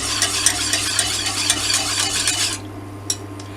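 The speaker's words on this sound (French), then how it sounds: "Je vais remuer un petit peu afin de dissoudre le sucre." A spoon stirs milk heating in a pan to dissolve sugar, giving a steady, close scraping swirl that stops abruptly near the end, followed by a quieter background and a single light clink.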